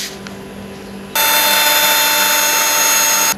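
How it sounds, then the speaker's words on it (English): A power drill spins up abruptly after a quiet moment and runs at a loud, steady high-pitched whine close by before stopping, drilling a hole in a Proton Inspira car while installing a camera. "I'll drill a hole in between here"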